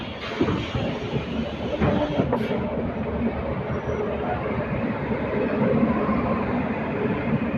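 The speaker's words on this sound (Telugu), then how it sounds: "మన ట్రైన్ ప్యూర్ డీజిల్తో రన్ అవుతుందండి" A diesel-hauled Hubballi Express, train 17320, of 14 coaches, runs with a loud, continuous rumble and rattle from inside the carriage, a steady wash of wheel and track noise throughout.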